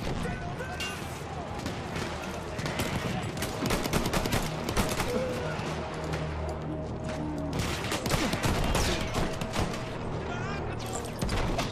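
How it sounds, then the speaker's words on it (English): Rapid rifle fire and explosions from a World War I battle in Battlefield 1, including a Gewehr 98 rifle, crackle dense and loud throughout amid constant battlefield noise, with a voice talking over it. "Ah, the Guevara 98. One of my favorite rifles."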